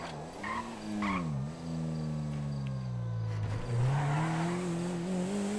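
A BMW drives off in a roleplay video game, its engine note rising and falling through gear shifts as it accelerates away, a steady moderately loud motor hum with no talk.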